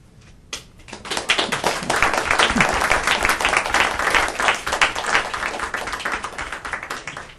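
After a single sharp clap, an audience at a human rights panel discussion breaks into hearty applause that swells within a second and holds steady, many hands clapping densely before tapering slightly toward the end.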